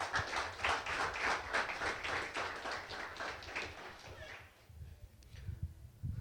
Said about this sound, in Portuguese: Dá uma salva de palmas para o Senhor que Ele merece.